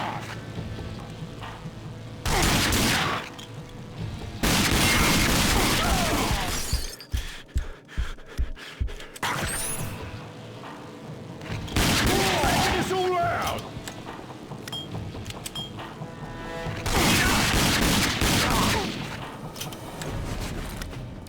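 Combat shotgun in the shooter Rage, firing as heavy, loud blasts in separate bursts across the stretch, joined by a quick run of sharp clicks, with someone talking between shots.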